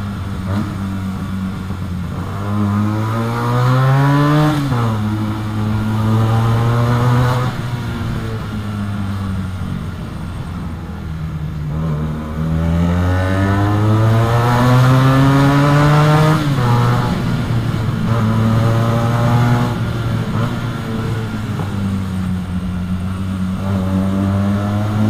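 A Benelli TNT 300 motorcycle, an IXIL60 anniversary edition, revs repeatedly from close by, its engine pitch sweeping up and dropping back between blips over a steady idle.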